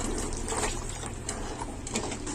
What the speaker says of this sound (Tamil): ஒரு ஒன்றரை டம்ளர் அளவு தண்ணி ஊற்றிருக்கோம்